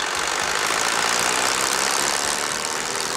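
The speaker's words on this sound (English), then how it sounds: "Allow the engine to idle for a minute or two to warm up." A brush chipper's engine idles steadily while warming up, a loud, even rumble with a dense mechanical texture and no pauses.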